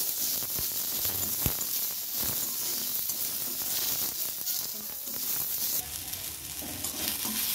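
A chopped onion sizzles and fries in a hot pan for a mixed vegetable dish, with steady hissing broken by repeated scraping stirs throughout.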